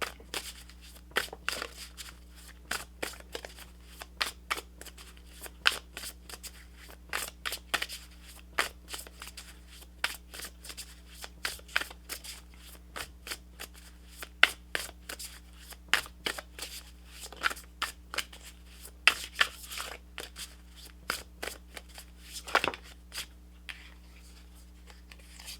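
Guidance cards for a tarot-style reading are shuffled repeatedly, close up, producing a long series of crisp riffling flutters and taps over a low steady hum, with no talking.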